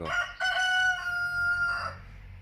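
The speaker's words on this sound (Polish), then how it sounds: "Koguty sobie pieją." A rooster crows once, loud and close, in the early morning, a long drawn-out call that trails off after about two seconds.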